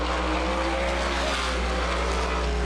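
Race cars at Angola Motor Speedway roar continuously in a dense, loud engine drone during the Stan Perry Memorial 110, with no break in the sound.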